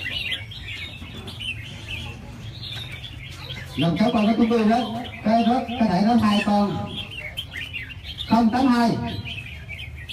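Red-whiskered bulbuls chirp near a house in short bright bursts over a steady background, with people talking throughout.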